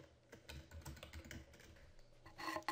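Computer keyboard typing a folder name in OneDrive, a quick run of close, light key clicks in an irregular rhythm with a louder burst at the end.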